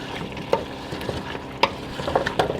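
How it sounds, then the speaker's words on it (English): A utensil scrapes the browned bits from the bottom of a pot while deglazing during the making of an apple and butternut squash bisque. Close, uneven scraping and stirring scuffs sound over a soft sizzle, with no talking. "it helps to scrape up all of the little brown bits on the bottom of the"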